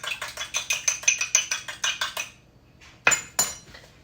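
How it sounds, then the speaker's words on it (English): An egg whisked briskly in a small dish, with fast, even metal-on-dish clinks in a steady rhythm for about two seconds, then a pause and a couple of sharper knocks against the rim. "Whisk it."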